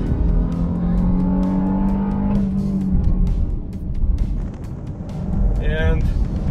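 An SUV driven hard through the turns of a track at IMI, its engine droning and shifting pitch under a driver talking close by, the tone surging again near the end.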